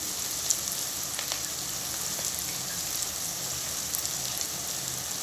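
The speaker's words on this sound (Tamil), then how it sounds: "கட் பண்ணி வச்சுருக்க தக்காளி வெங்காயம் வணங்கட்டும்." Chopped onions and tomatoes sauté in a pan for idli manchurian, giving off a soft, even sizzle that holds steady without interruption, close and fairly quiet.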